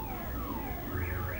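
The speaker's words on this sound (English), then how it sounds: "Once that car alarm goes off and starts interrupting my flow here a little bit" A car alarm going off nearby, its rising and falling warble sustained without a break over a steady background hum, with no talking.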